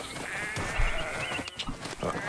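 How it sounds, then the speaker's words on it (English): Goats bleat a few times over a steady bed of Assassin's Creed Origins game background music and ambience, the calls short and mid-level. "Hey, goats."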